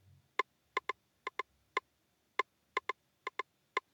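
A wooden percussion sound in an FL Studio gospel beat plays crisp, dry knocks in a syncopated pattern, about a dozen hits over four seconds, clear and alone.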